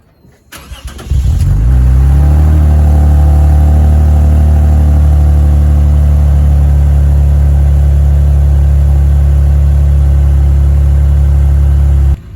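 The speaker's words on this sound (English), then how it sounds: "I'm gonna just put my camera down here and then turn on my car." A Lexus IS250 fitted with a Megan Racing aftermarket exhaust cranks briefly, catches, and settles into a loud, steady, deep exhaust drone close to the microphone for about ten seconds before cutting off.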